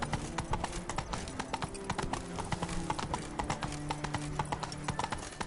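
Roach, a horse in The Witcher 3, gallops with a steady, rapid clip-clop of hooves over a dense game soundscape, with a brief neigh-like sound mixed in.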